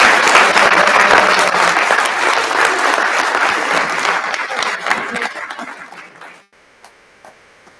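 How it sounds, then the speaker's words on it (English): A school board meeting audience in a small theater gives award winners a loud, sustained round of applause that tapers off and stops around six and a half seconds, leaving near silence. "if we can have another big round of applause for our winners"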